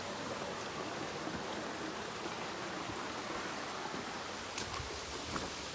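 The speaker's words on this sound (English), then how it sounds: "Gonna get back here so I don't have to yell over the waterfall." A garden waterfall pours steadily, filling the scene with a broad, constant rushing wash at close range, with a couple of faint brief ticks near the end.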